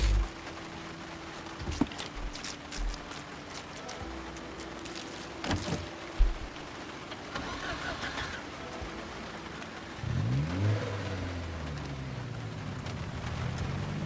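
A hotwired car engine in the zombie survival game Project Zomboid cranks into life around the ten-second mark, with a rising whine settling into a steady idle and rev. Scattered game noises precede it.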